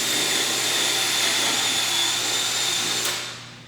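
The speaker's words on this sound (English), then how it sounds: "I'm going to drill a hole right here next to my other hole." A power drill bores a hole into wood, a steady loud whine held close up that runs alone without pause, then winds down and fades in the last half second.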